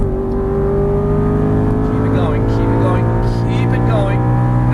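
Aston Martin V8 Vantage GT race car engine on track, a steady loud drone holding high revs throughout with shifting harmonics, while a driving coach talks over it.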